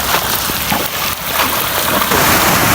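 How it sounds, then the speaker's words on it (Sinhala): Heavy rain pouring down on the Horton Plains, a loud, dense and continuous wash of drops hitting surfaces close by, steady throughout with no voices. "හොඳටම වහිනවා."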